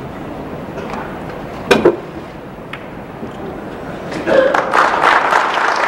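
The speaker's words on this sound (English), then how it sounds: "We're applauding" Spectators at a 2008 Pagulayan vs Bustamante pool match clap, a few scattered sharp sounds early, then a modest burst of applause swelling in the last seconds against a quiet hall.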